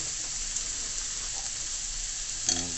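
Garlic sizzles in hot oil in a pan while coconut curry shrimp is cooked, a steady close frying hiss with a brief burst of louder crackling near the end.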